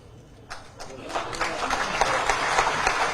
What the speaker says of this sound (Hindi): अभी आप ताली बजा रहे हैं, ताली मत बजाइए